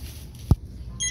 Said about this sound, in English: Uh-oh, it beeped.